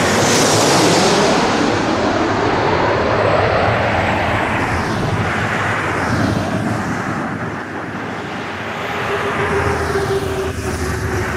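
An airliner takes off from runway 05 at Toronto Pearson with a loud, steady roaring rumble of jet engines and a broad whoosh that shifts in pitch as it accelerates past, with no voices.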